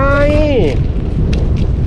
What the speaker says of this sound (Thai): นี่ไงลมแรงเลยโอ้ลมแห้งเลย